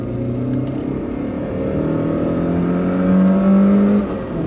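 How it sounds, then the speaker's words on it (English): A Peugeot 405 Mi16 engine hums steadily and then revs up, its tone rising smoothly and growing louder toward the end, heard alone at moderate distance. "the engine wants to go"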